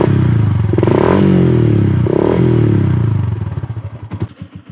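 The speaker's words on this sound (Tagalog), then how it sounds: "After we turn on the engine, we need to click the starter." Motorcycle engine cranks on the electric starter and runs with a loud, close, buzzing idle that rises twice, then sputters down into separate chugging pulses near the end.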